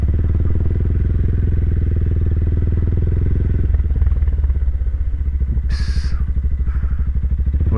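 Motorstar GPR250 Xplorer motorcycle being ridden, its engine loud and close with a steady throbbing drone that shifts in pitch partway through, joined by brief clatter.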